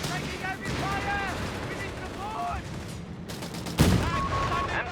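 Machine gun fire and battle noise from the strategy game Company of Heroes 3 rattle in bursts under a commentator's voice.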